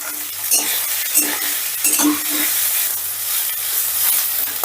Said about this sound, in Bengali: সয়াবিনটা আমি বেশ লাল লাল করে ভেজে নেব।